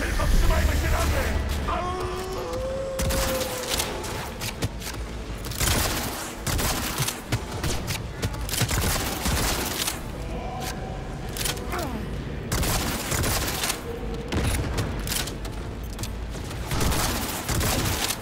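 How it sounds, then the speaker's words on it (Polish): Carbine gunfire in the video game Cyberpunk 2077, rapid volleys of shots repeating throughout over loud, steady combat noise, with faint voices mixed in. "to ten karabinek tak strzela"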